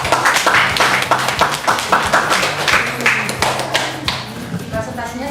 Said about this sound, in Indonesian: Kita aplaus.